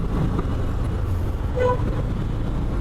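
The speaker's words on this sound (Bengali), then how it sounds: "বাইক চালায়ও মজা লাগতেছে খুব রিল্যাক্স লাগতেছে বাইকটা এই জায়গাটা জ্যাম থাকবেই" Road traffic in a jam heard from a GPX Demon 165GR motorcycle, with a car horn tooting and steady engine rumble of surrounding vehicles close by.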